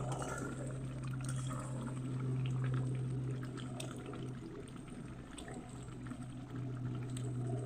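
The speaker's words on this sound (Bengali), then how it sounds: "এবার কুকারে ঢেলে দেবো আমি কুকারে ঢেলে দিয়েছি" Cooked meat curry with potatoes is poured into a pressure cooker, giving a faint, continuous wet slopping and trickling over a low steady hum.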